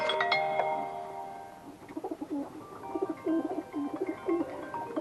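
A red check pigeon hen gives a series of soft, repeated cooing calls, close and fairly clear, with a brief tonal ringing sound at the start.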